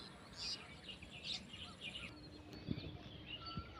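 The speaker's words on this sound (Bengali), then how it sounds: "পাখি ডাকছে" Birds call and chirp in open countryside beside a field of white flowers, a few faint, scattered calls over a steady outdoor background.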